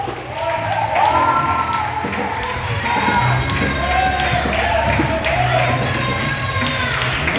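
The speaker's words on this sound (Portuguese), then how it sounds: "Aplauda o Senhor." A church congregation at a Portuguese-language worship service cheers and claps together. The sound is loud and sustained, with many voices shouting and exclaiming over the clapping.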